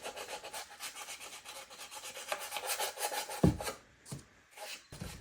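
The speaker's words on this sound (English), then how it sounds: "So now I'm going to take my finger sander, and I'm just going to go along and sand around the edges." A finger sander rasps along the edges of wooden furniture to distress it, giving a close, rapid, rhythmic scrubbing that stops and then returns in short bursts.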